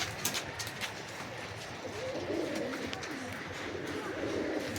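A Giribaz pigeon coos softly and repeatedly in a low, rolling murmur among other birds, with faint background noise and occasional sharp sounds.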